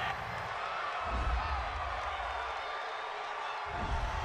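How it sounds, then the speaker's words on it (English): A football stadium crowd at a New England Patriots versus Buffalo Bills game reacts against a penalty call, a broad roar of booing and murmuring that swells and dips, with a broadcast commentator talking over it. "this crowd does not like that call"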